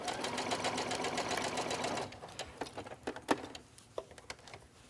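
A home sewing machine stitches a pillow seam, a fast steady whir for two seconds, then slows into a few separate stitch clicks as the needle pivots to meet the earlier stitching.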